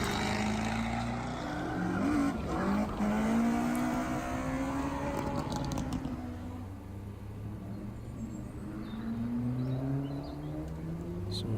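A student-built race car from a university project drives along the Coventry ring road at Motofest, its engine note rising and sweeping in pitch as it passes, loud and continuous with a rougher fade toward the end.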